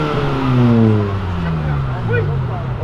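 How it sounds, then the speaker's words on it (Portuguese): A Honda car drives past outside a charity event, its engine note sliding downward as it goes by, fairly loud and near, with voices talking in the background. "Olha o Honda aí, ó."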